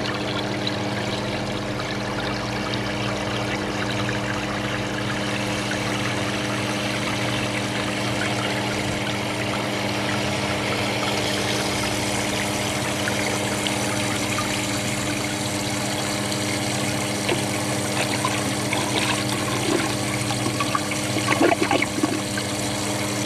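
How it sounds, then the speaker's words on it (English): A 1991 Kohler Wellworth toilet with a blocked siphon jet flushes in one long continuous rush of water, steady and close, with gurgling trickle near the end and no talking. "Siphon jet blocked, but this is going to be a really long flush."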